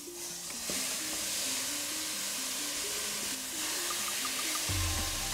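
Beef, fat cap down, searing in a Ninja pressure cooker for birria tacos: a steady broad sizzle and crackle that runs evenly throughout, with no talk.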